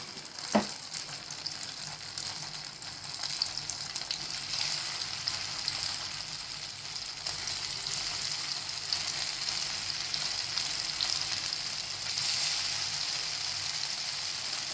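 Leftover rice tikki shallow-fries in hot oil over a low gas flame, giving a continuous, even sizzle close by. A single sharp click comes near the start, and the crackle swells slightly midway.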